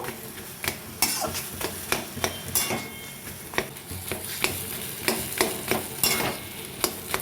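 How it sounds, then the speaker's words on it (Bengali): Vegetarian papad filling being stir-fried in a pan, a sizzle under a regular series of scraping, clinking spatula strokes against the pan, moderately close. "আমি একটু ভালো করে কষিয়ে পুরটা করে নেব"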